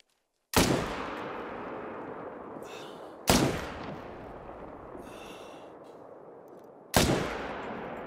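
Three loud rifle shots from a Tsurugi LRR .388 in the hunting game theHunter: Call of the Wild, each a sharp crack followed by a long rolling echo, spaced a few seconds apart with no talking.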